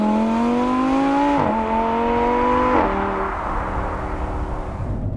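An Audi R8 accelerates hard, its loud engine note climbing steadily in pitch, dropping sharply at two quick gear changes and pulling up again before settling into a lower, steadier drone, with no talking.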